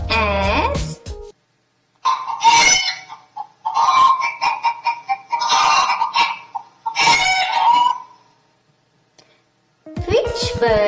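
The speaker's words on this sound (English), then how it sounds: "Hen sounds as" A hen clucks in a few bursts of loud, close calls separated by short pauses, with a voice speaking at the start and end.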